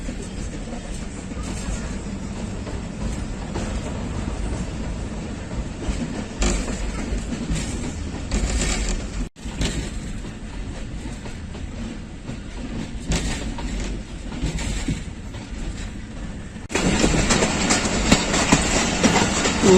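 The Rawalpindi Passenger of Pakistan Railways rolls along on rails near Haripur Hazara: a continuous rumble with rhythmic clickety-clack from the wheels that grows louder toward the end.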